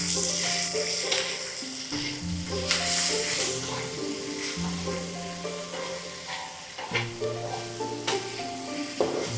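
Okra and tomato stir-fried in a wok send up a loud, continuous sizzle, broken by repeated scraping and clattering strokes of the spatula against the metal, with no talking.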